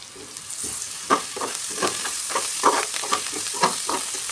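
Seasoning for pomegranate curd rice sautés in a pan, giving a steady close sizzle broken by repeated scraping stirs at a loose, uneven rhythm, with no voices.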